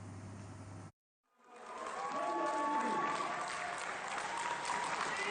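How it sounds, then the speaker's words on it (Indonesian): After a brief cut to silence, a crowd at Soekarno-Hatta airport breaks into enthusiastic applause and cheering for arriving Indonesian Olympic medal athletes, building up and holding steady with mixed voices in the crowd. "Tepuk tangan meriah menyambut kedatangan para atlet dan rombongannya"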